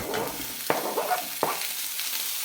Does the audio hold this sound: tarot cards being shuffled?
no